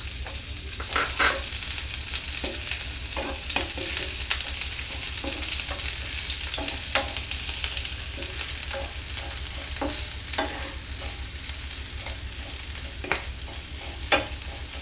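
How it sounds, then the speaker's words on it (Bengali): Chopped onion and green chilli fry in hot oil for a Bengali-style bhindi chicken keema, with a steady close sizzle and regular clicks and scrapes of stirring throughout. "তেলে আমি কাঁচা লঙ্কা দিয়ে এবার আমি পেঁয়াজটা, কুচি করা পেঁয়াজটা ছেড়ে দিই"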